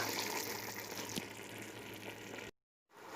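Meat broth poured into a simmering green potato stew, a steady liquid gush lasting a few seconds and close up, then breaking off into brief silence before a quieter return.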